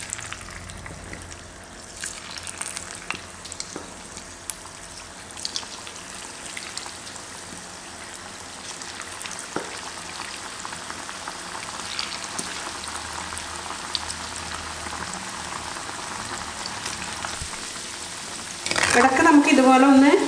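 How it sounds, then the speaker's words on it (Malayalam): Cauliflower pieces for a chilli fry frying in hot oil, a steady broad sizzle running throughout with faint scattered clicks, then a louder, brighter burst of bubbling near the end as more pieces go in. "ഇനി നമുക്ക് ഓരോരോ കോളിഫ്ലവർ പീസസായി അതിലേക്ക് ഡിപ്പ് ചെയ്ത് കൊടുക്കാം."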